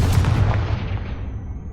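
Confringo fire spell blast in Hogwarts Legacy, a loud booming explosive burst that decays into a rumbling tail over a second or so.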